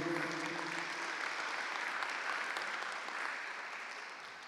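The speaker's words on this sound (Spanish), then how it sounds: "Dale un aplauso al Señor" A church congregation applauding during a sermon, dense steady clapping that fills the room and slowly fades toward the end, with a brief voice at the start.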